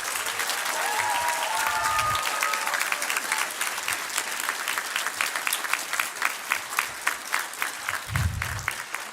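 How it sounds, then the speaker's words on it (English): A graduation audience at a fall commencement gives the graduates sustained, dense applause, loud and continuous for about nine seconds, with a few whoops and cheers rising above the clapping early on. "One more round of applause for these graduates."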